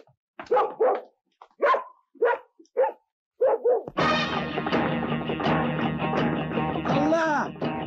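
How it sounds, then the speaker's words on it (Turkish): Dog barking in an old Turkish comedy film, a series of short, separate barks spaced out over several seconds, followed by a longer stretch of loud, continuous barking mixed with voices and scuffling. "Köpek var orada köpek."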